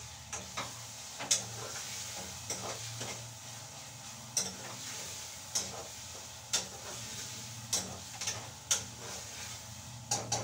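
Green chillies fry in a pan with a steady low sizzle, while a spoon scrapes and knocks against the pan in regular strokes about once a second.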